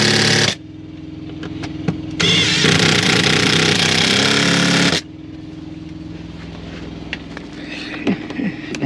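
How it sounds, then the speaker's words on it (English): Bolts are ratcheted into a low-profile seat base on a Pinnacle seat in a Peterbilt 579 truck, two loud, harsh mechanical bursts of a few seconds each over a steady low engine-like hum. "So now we ratchet these in."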